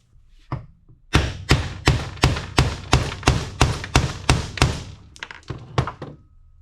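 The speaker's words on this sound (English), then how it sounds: "I'm going to go ahead and put this face down, hammer this out with a socket" An old part, set face down, is hammered out using a socket: about a dozen sharp, evenly spaced metallic thunks strike in a steady rhythm, loud and close, with a couple of lighter taps trailing at the end.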